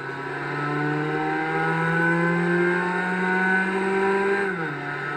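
A Skoda Octavia A7 is driven in the racing game Assetto Corsa, its engine holding a steady, droning tone that rises slowly, then dips near the end as the revs drop, with no voices.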